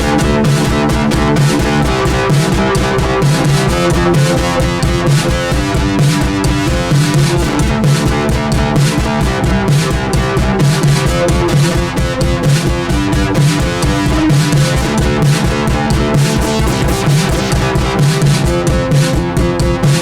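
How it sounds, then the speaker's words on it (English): A heavily distorted instrument from the Soundpaint 1974 Jagra sample library plays a steady, sustained riff with a dense, buzzing tone and rhythmic pulses, loud and continuous throughout. "you can change the different type of distortion that you have"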